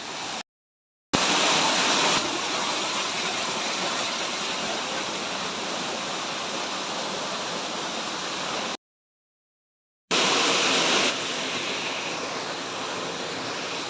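A waterfall tumbling among rocks makes a steady, dense roar heard close and alone, broken by two brief gaps.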